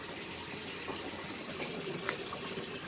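Water runs steadily into a bath, a continuous hissing gush with no talk, fairly faint and even throughout.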